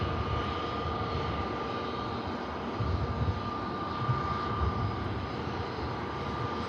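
An airliner's thrust reversers roar on landing at Manchester Airport, a steady broad rumbling whoosh held at a distance throughout with a faint whine riding on top.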